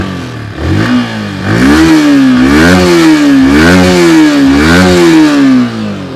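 A 2023 Yamaha R15 M v4 sport bike fires up and is revved repeatedly, its exhaust note rising and falling in several loud, close throttle blips over a steady idle.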